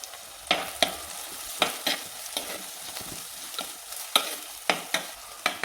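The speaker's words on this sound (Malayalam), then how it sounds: "ചതച്ച ചുവന്നുള്ളി ഇതെല്ലാം കൂടിയിട്ട് നമുക്ക് നന്നായി ഇളക്കിയെടുക്കാം." Crushed shallots and spices for a sardine curry, stirred while frying in a pan, giving repeated sharp scraping strokes at an uneven rhythm over a soft, steady sizzle, close and clear, with no talking.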